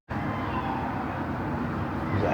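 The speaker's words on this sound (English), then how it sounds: "There's actually a car." A car passes on a quiet street at the edge of Alkmaar's city center in the Netherlands, a soft, steady rolling hum that swells slightly toward the end.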